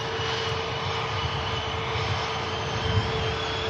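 A five-year-old Boeing Dreamliner moves onto the departure runway at Manchester Airport, its engines a steady, broad roar with a faint whine held throughout, fairly close and with no talking.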